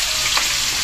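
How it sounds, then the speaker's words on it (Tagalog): Pork meat sautés in a pot for sinigang, a loud, dense, continuous sizzle of frying close by, with no talk. "Igigisa na po yung ating karne."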